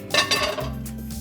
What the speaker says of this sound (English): And then bring over a frying pan